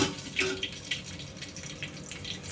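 Colocasia leaf rolls (aluvadi) fry in oil in a pan under a lid, giving a soft, continuous sizzle dotted with small pops and crackles.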